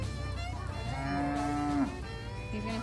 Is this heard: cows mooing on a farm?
yes